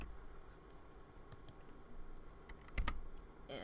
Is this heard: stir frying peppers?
no